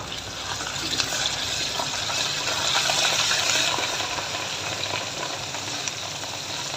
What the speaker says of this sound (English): So this is the point at which we'll be adding ginger garlic paste. We'll fry it for just a little while.